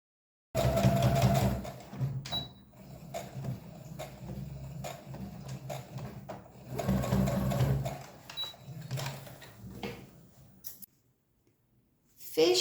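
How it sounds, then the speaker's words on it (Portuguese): A sewing machine stitches a bag's lining to its main fabric, running in bursts with short pauses between, near and steady, its motor whir and needle clatter rising and falling over about ten seconds before stopping. "costura o forro junto com a parte principal"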